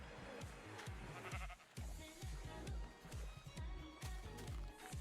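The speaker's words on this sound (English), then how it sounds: "Oh, there's more sheep over there." Minecraft Beta sheep bleating in the game amid a thumping rhythmic song with a steady beat, the animal calls brief and mixed under the music.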